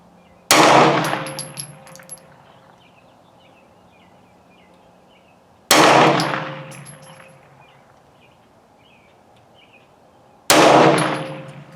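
Hi Point 995 carbine, an early production model, fired at steel targets outdoors: three loud gunshots spaced about five seconds apart, each with a sharp metallic clang ringing from the struck steel and a decaying echo, with faint birdsong in the gaps.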